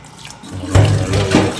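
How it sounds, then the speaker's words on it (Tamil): Water runs from a tap into a cooking pot in a home kitchen, a steady rushing stream that grows louder partway through as the pot fills, with no talk. "தண்ணி ஏற்றிடுறேன்."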